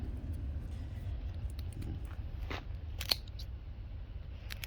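Crisp snipping and cutting sounds as a Dendrobium orchid plant is cut apart for division, a few sharp close cuts over a quiet low background hum.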